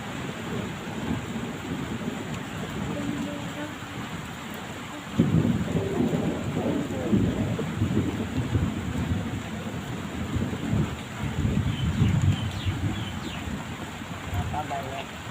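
A thunderstorm with steady rain hissing throughout, broken by a loud, close roll of thunder that bursts in partway through and rumbles on in heavy waves before easing.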